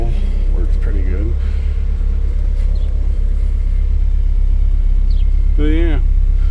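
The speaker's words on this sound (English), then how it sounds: "It shakes and rattles though. But that's an Iron Duke." A 1989 Chevy S10 Tahoe pickup with an Iron Duke four-cylinder idles in a steady low rumble that fills the whole stretch, with someone talking over it in short bursts.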